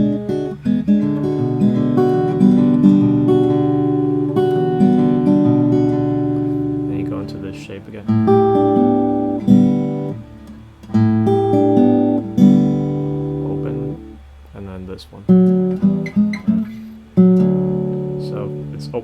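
Country guitar riff, picked with the index finger lifted and the palm off the strings so notes ring unmuted; a steady run of plucked notes with short pauses, close and clear.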